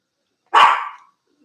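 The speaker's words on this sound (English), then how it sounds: "Hopefully my dog in the background isn't making you too much noise there." A pet dog named Deja gives a single sharp bark, fairly close and loud, standing alone in an otherwise quiet room.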